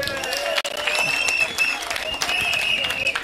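A crowd claps for Mutuma in a short, dense burst of applause, with raised voices and cheering heard over the clapping.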